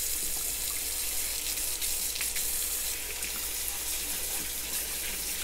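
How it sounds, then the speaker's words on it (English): Tap water runs steadily over rabbit feet being rinsed in a sink, a continuous close splashing hiss with no pauses or talk. "make sure you rinse it really well"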